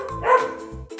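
A domestic dog lets out a short, loud bark close by, with no other sounds around it.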